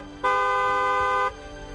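A vehicle horn gives one loud, steady honk lasting about a second. It stands alone over faint background noise, with no talk.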